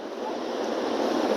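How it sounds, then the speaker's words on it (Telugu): Water pours steadily down Duduma Falls in Odisha, a continuous broad rushing roar without breaks, with no talk over it. "సార్ చూడండి ఎంత వాటర్ కిందకి వస్తుంది."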